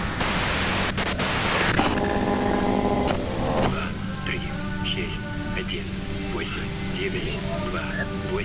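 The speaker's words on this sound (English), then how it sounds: "you can do it through the white noise." Loud hissing white-noise static from the video game Disco Elysium, a dense harsh burst at the start settling into a steady wash, with a voice speaking over it.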